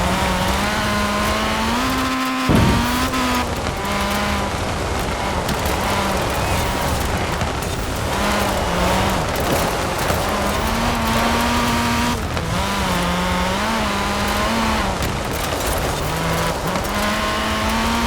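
A 1990 Nissan Pulsar AWD rally car racing in Forza Horizon 4, its engine droning loudly and steadily throughout with pitch rising and dropping through gear shifts, plus a brief dip and tire noise near the start.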